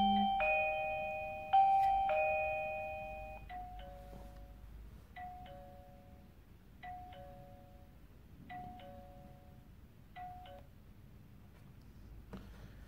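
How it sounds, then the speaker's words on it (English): A doorbell chimes several times in a repeating two-tone pattern, clear and close, with a quiet room behind it. "press the doorbell again"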